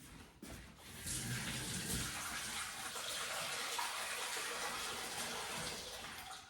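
Tap water runs steadily into a kitchen sink during home cooking as something is washed, a continuous broadband rush that starts abruptly and holds at an even, fairly loud level, with no voices.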